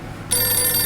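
A telephone bell starts ringing abruptly after a brief quiet moment, giving a bright, loud, sustained metallic trill close up.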